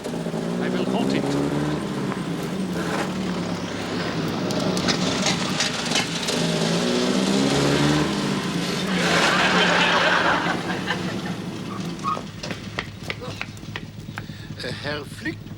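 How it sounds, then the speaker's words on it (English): An approaching car's engine rumbles steadily and swells louder toward the middle before easing off, with voices and some laughter mixed over it. "There's a car coming."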